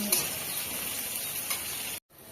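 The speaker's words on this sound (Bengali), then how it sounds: "জিরেটা দিয়ে আর একটু ভাজা হোক" Continuous bright sizzle of onion, garlic and cumin frying in hot oil in a pan, close and steady, cutting off abruptly near the end.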